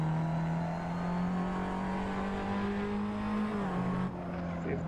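A race car engine in the Assetto Corsa racing game holds a loud, steady droning tone that drops in pitch near the end as the gear shifts, with no talk over it.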